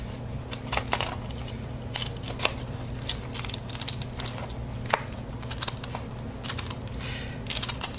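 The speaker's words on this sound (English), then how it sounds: "when I bring in my craft and rubber scissors and cut it" Scissors snip repeatedly through a stiff acetate sheet, producing crisp, irregular clicks and crackles up close over a low steady hum.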